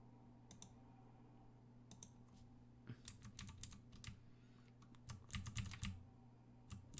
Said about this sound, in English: If I type myself in circles here